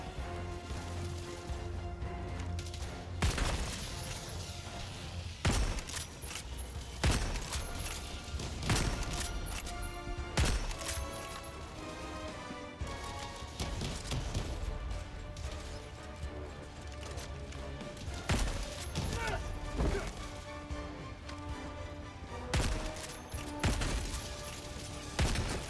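Helldivers 2 combat with repeated sharp gunfire bursts and crashing impacts spread irregularly over a dense, noisy battle din, loud and close throughout.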